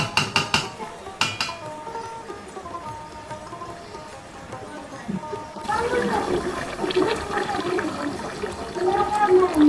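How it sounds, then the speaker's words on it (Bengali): After some light clatter, hot water is poured into a pan of cooked, browned beef, producing a sudden loud gushing rush that carries on to the end, with people talking nearby. "আমার কিন্তু গোস্ত কষানো শেষ, এখন আমি গরম পানিগুলো দিব।"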